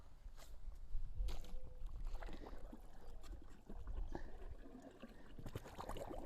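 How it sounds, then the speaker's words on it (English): A Smorobot Tank X1C battery-powered pool cleaning robot is lowered into pool water, giving soft sloshing, pouring and trickling splashes that run steadily throughout at moderate level with no talking. "So we're going to put it in the pool."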